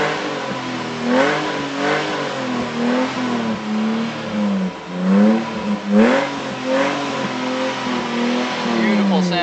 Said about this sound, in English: Sounding exhaust